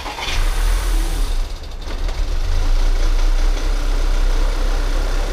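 A worn 4-cylinder car engine that needs timing chains idles roughly and noisily, a steady low drone that dips briefly before carrying on, with no voices.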